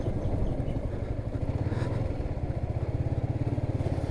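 A motorcycle engine idling close by, a loud, rapid, even low-pitched putter that settles into a steady pulsing rhythm.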